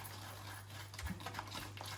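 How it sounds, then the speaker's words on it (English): A spoon stirring a thick hair conditioner mixture in a bowl, giving soft, faint, irregular scraping and clinking against a low steady hum. "And then you need to mix this up."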